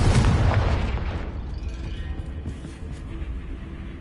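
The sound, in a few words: Confringo explosion spell in a Harry Potter video game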